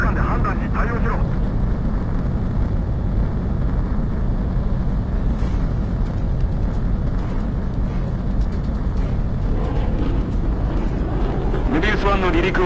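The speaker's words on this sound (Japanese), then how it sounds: "メビウスワンの離陸を確認。" A fighter jet takes off in the Ace Combat 7 video game. A heavy, continuous engine roar runs throughout at steady loudness, with radio-style voice chatter faintly on top near the start and end.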